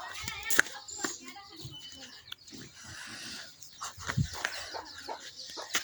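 A hen clucks in a home setting, its short calls mixed with scattered knocks and a busy background, with a sharp sound early on and another burst near the end.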